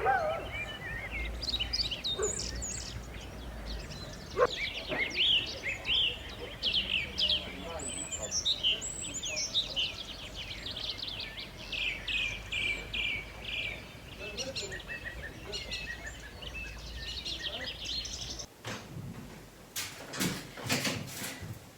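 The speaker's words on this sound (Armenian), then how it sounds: "որ միայն ու միայն թռչունների երգը լսեք" Garden birds sing and chirp in a lively, overlapping chorus of bright tweets and trills near and far, continuing for a long stretch before a brief shift to softer background sounds near the end.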